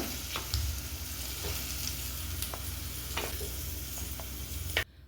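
Lentils fry in a pan with a constant hissing sizzle and occasional spoon taps and scrapes from stirring, cutting off abruptly at the end.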